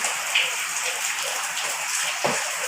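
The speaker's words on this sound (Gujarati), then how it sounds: "વરસાદ શરૂ થાય ને એટલે અહીંયા ઘરમાં પાણી પડવાનું શરૂ થઈ જાય" Steady rain patters and hisses indoors as water leaks into a house, with a brief louder splash of dripping water near the end.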